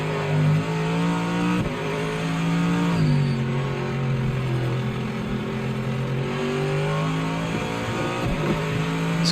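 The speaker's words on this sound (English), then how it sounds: "This car sounds pretty grungy" A race car engine in Project Motor Racing hums steadily at high revs, rough and grungy in tone, with the pitch dipping slightly and then holding, loud and alone.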